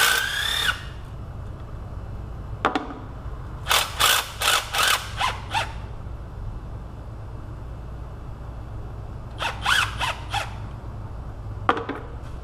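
A ratchet or power tool works transmission pan bolts loose on a Pontiac G6, several short clustered bursts of whirring and clicking separated by quiet pauses over a steady low hum.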